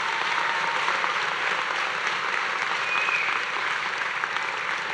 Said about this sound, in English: Let's give them all one more big round of applause.